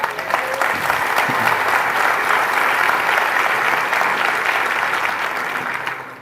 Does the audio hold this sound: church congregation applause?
yes